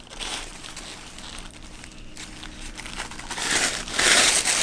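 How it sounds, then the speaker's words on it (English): Tissue paper wrapped around a Hot Wheels Porsche Dakar Safari toy car box is ripped away, close crinkling and tearing that swells louder in the last second with brisk crunchy rustles and no voice. "we're going to go ahead and just rip that off right here"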